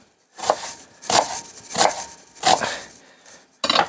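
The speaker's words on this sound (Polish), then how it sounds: "Cebulę kroję na ćwiartki" A knife chops an onion into quarters on a cutting board, five crisp separate strokes spaced about half a second apart, close and clear with no talking.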